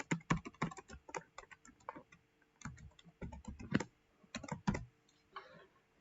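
Typing on a computer keyboard during CAD drawing work, with quick bursts of close key clicks separated by short pauses. Faint and alone, with no voices.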